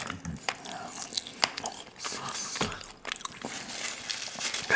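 Buffalo ranch chicken wings bitten and chewed up close in a quiet room, with several crisp crunching bites and wet chewing in an uneven rhythm, soft and intimate, with soft-spoken talk in between.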